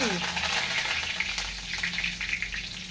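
Curry leaves sizzle and crackle in hot oil in a pan, a steady close frying hiss that runs unbroken for a few seconds with no talking.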